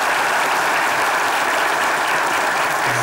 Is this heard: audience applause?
yes